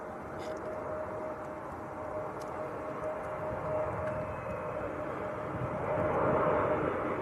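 An Emirates airliner in the blue Destination Dubai livery at Manchester Airport produces a steady broadband jet roar, distant to moderate in level. It swells slightly toward the end.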